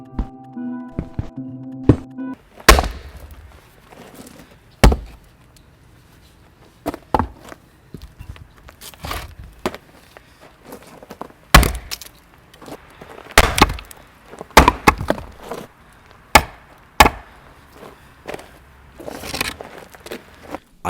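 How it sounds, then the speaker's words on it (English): Length of flexible metal conduit strikes wood in a series of sharp, irregular knocks and dull thuds, some close and loud, some softer, with brief gaps between hits. "I hit the wood with it, but it made some weak ass noise"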